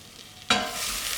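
Cumin, cardamom and mustard hit hot oil in a sweet potato and chickpea curry pan, a sudden loud sizzle after a quiet moment that then settles into a steady, close frying hiss.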